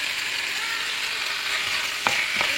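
Scallops and meat frying in a pan, with steady broadband sizzle throughout and a couple of brief stirring scrapes near the end.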